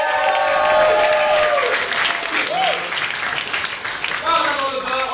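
Comedy club crowd applauds a comedian after his set, clapping and cheering steadily, with voices and whoops audible through the applause.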